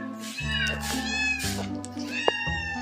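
A white pet cat meows several times in a row, close and clear, with drawn-out, wavering calls separated by short pauses.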